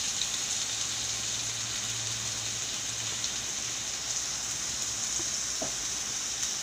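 Chicken, vegetables and onion frying for fried rice, a soft, even sizzle throughout with a faint low hum and an occasional light tap, no voices.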